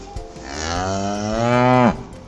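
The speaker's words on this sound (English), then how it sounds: "Cow." A single cow moos once, a long drawn-out call that rises and swells near the end before breaking off, loud and close with no other sound.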